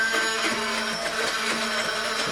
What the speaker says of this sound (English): you could just mix it with a whisk, the olive oil and the salt, but I'm gonna whisk it up a little bit here